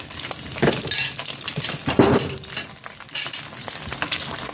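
Leftover suman sa ibos, sticky rice cakes, frying in a pan over medium heat, a loud close crackling sizzle with occasional utensil scrapes and clinks, no voices.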